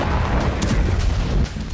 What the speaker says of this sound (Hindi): हमले के दौरान तेज धमाका हुआ और कई फीट ऊंची आग की लपटें उठने लगी।